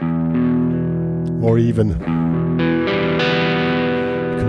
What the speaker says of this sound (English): So it's one guitar, a cheap distortion, a backing track.